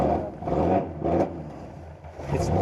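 A classic car nicknamed the Green Hornet runs in a garage with a rough, uneven idle, its engine note surging and dipping in a loping rhythm roughly every half second, close and fairly loud.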